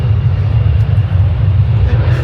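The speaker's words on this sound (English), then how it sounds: "this is maybe a bad place to do an outro with these planes blasting their literal jet engines" Very loud, continuous low roar of aircraft jet engines at an aviation museum in Charlotte, North Carolina, a steady, close blast that fills the whole moment.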